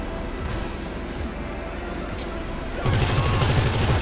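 Machine gun fire in GTA 5 at a military base, a steady rattling stream under loud game noise that grows heavier and more rapid toward the end.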